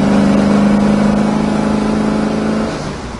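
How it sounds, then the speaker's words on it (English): A 1970 Chevrolet Chevelle SS muscle car engine roars with a deep, steady exhaust drone as it accelerates, loud and close, easing off slightly near the end. "Goes down the road straight, got a great sound to it, a nice exhaust, non-objectionably loud"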